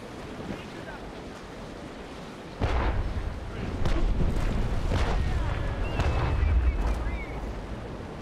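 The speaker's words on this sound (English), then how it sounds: "Like my shooting just over the front of your ship there." Deep booming cannon fire from sailing warships in the naval combat game Naval Action rolls out in heavy repeated blasts over a constant wash of wind and ocean surf.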